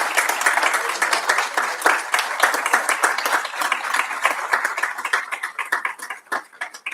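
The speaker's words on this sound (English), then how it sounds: "So if we can give the Hobo organization a huge round of applause." A school board meeting audience gives a sustained round of hand clapping for the Hobo organization, dense and fairly close, tapering slightly toward the end with no speech over it.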